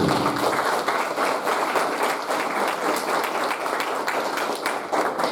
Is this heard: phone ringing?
no